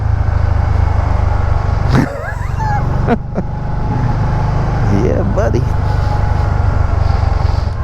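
A 2013 Can-Am Spyder ST-LTD with fouled plugs runs rough, its steady low engine drone loud and continuous throughout, with someone talking briefly over it.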